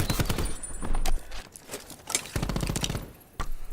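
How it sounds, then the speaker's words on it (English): Sharp bursts of video game gunfire from the shooter Call of Duty on the Gridlock map, in quick clusters, close and punchy, broken by short pauses; no voices heard. "Here I see that there's gunfire"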